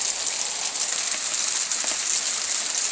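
Hail falls steadily outside a house, a dense continuous hiss and patter of many small impacts, fairly loud and even throughout.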